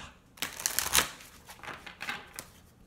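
Tarot and angel oracle cards being shuffled during a reading, a quiet riffling burst of papery card flutters and slaps, loudest in the first second then softer intermittent shuffles.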